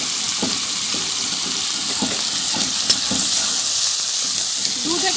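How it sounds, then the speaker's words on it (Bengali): Ground onion and tomato paste fry in oil with a bright continuous sizzle, punctuated by a regular series of soft stirring knocks against the pan, close and fairly loud, with no talking. "এবারে বেটে রাখা পেঁয়াজটা দিয়ে দেব। বেটে রাখা টমেটো দিয়ে দেব।"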